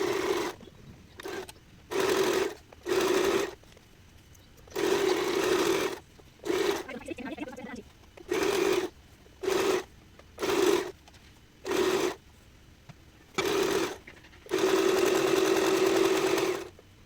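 A sewing machine stitches in a series of short, loud bursts separated by quiet pauses, close up, with a longer run near the end.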